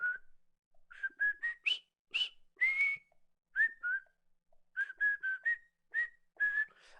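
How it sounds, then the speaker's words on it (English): A tune from the Colonel Bogey march is whistled alone, a quick series of short, clear pitched phrases with brief pauses between them. "if you wanted to whistle Colonel Bogey while doing a run, you'd have to go like that"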